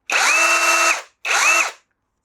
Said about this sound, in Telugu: normal drilling